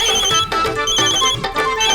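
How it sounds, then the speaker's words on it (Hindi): A telephone rings in a domestic drama scene, a loud repeating electronic ringtone with steady tonal bursts filling the short clip, no talking over it. "फोन किसका है?"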